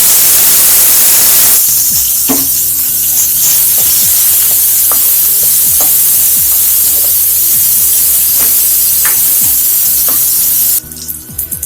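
Curry leaves, green chilies and chopped shallots crackle and sizzle loudly in hot oil for a fish kuzhambu, with a dense continuous fry broken by sharp spitting pops throughout.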